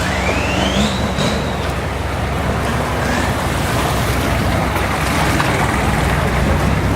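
Boat motor at a floating market outside Bangkok, Thailand, a loud, steady, close engine drone mixed with water wash, running continuously.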